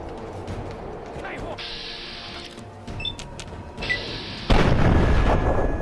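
Gunfire and explosive bursts in the video game Fallout 3, a few scattered shots followed by a loud sustained blast near the end, mixed with game ambience and someone talking over it.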